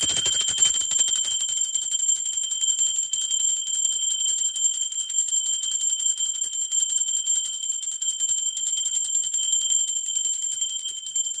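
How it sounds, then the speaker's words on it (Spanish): A bell rung to clear past energies during a tarot reading gives a sustained bright metallic ring with steady high overtones, lasting throughout after a brief initial strike, alone with no voices. "Ok, va campana."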